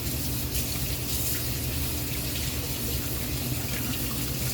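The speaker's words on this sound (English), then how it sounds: "let me rinse my hands off" Tap water runs steadily into a kitchen sink while hands are rinsed during bread making, a continuous close-up gush with no talking.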